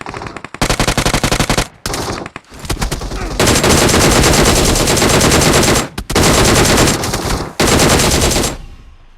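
Sustained automatic gunfire from a minigun-style weapon in a video game, loud and dense bursts with a few short pauses, continuous rapid fire through most of the stretch.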